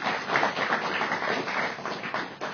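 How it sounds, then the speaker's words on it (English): Dense, steady applause from an audience for the St Andrew's team at a Tonga College versus St Andrew's school contest, sustained and fairly close throughout with no voices. "Can we give them a round of applause?"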